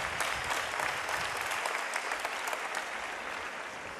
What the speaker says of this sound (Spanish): ¡Ay, les aplaudís también, claro!